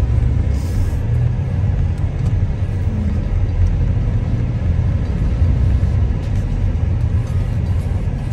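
A car rolls into a parking area at a temple site and settles, with a steady low engine rumble and road noise that hold throughout at a constant close level.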